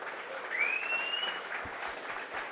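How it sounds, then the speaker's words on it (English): A live audience at a golf podcast event applauds in a steady, soft wash of clapping that holds for the whole stretch and sounds somewhat distant. "give me a round of applause if you think Luke Donald did a good job."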